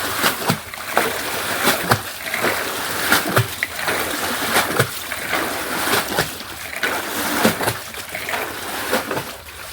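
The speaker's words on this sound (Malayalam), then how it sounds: "ഇങ്ങനെ തുടിച്ചു കോരുക എന്നാണ് പറയുക" Water in a well churned with a bucket and drawn up, repeated splashes and sloshes in an uneven rhythm, loud and close, with occasional talk.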